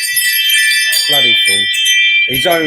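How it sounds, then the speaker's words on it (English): A doorbell chimes with bright ringing tones, sounding at the start and again near the end, while someone talks between the rings. "that's my doorbell, sorry"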